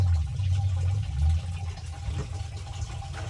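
Running water splashes over salted kimchi vegetables in a colander, a steady close rush with low gurgling, no voices.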